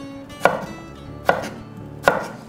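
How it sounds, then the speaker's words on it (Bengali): A knife cuts potato and radish into thin, finger-length strips: three sharp, evenly spaced chops land close and loud on a board, with quiet gaps between them. "আলু আর মূলো দুটোই হাতের কেড়ে আঙ্গুলের মাপে সরু সরু করে কেটে নিতে হবে।"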